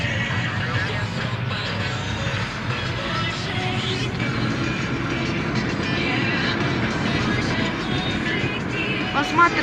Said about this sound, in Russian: пассажирский поезд едет.